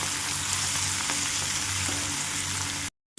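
Fenugreek leaves for pickle frying in a pan, a dense, steady sizzle with faint stirring, loud and close, ending in a brief cutoff to silence.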